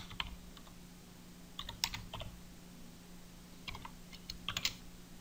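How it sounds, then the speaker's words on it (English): Keys clatter in short bursts of typing on a computer keyboard during Excel formula entry, quiet and close with pauses between clusters of keystrokes, no talking. "So we type again the getCell"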